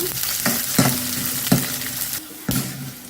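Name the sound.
frying green chillies, coriander seeds, urad dal, garlic in pan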